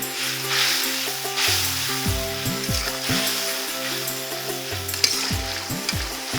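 Garlic paste, cumin paste, bay leaves and ground coriander sizzle in a pan for a prawn curry, with steady close frying hiss broken by repeated scraping strokes of a spatula stirring the masala.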